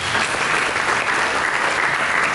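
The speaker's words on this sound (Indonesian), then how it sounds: "Mari kita berikan tepuk tangan yang luar biasa." A church congregation claps together in steady, dense applause throughout, fairly loud and with no voices on top.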